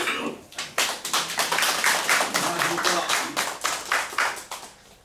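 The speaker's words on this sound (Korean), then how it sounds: "박수로 응원해 주십시오." An audience at a candidate's press conference for a pledge announcement claps steadily and briskly, a close, dense patter that swells and then tapers off toward the end.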